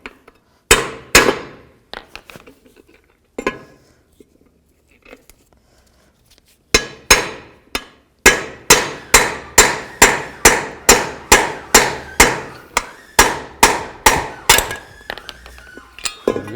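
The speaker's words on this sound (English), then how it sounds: "I'm just going to use a hammer and a bearing installer to just get it out the rest of the way." A hammer strikes a bearing installer to drive the front wheel bearing out of a 2000-2007 Ford Focus hub. A few scattered hits come first, then a long run of sharp, regular metallic blows, loud and close, with no voices.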